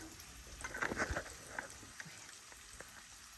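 Syrniki, cottage cheese pancakes, frying in a pan with a soft, quiet sizzle and crackle, a few brief louder pops near the start, then fading to a faint hiss.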